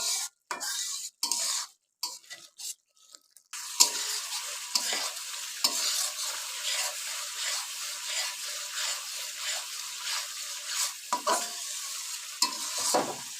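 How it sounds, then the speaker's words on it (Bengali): Spice paste frying in oil for a rohu fish curry, a continuous close sizzle after a few choppy stirring bursts at the start, with intermittent spoon scrapes against the pan throughout. "ভালো মশলাটা কষে নিব যতক্ষণ পর্যন্ত তেল না ছাড়ে"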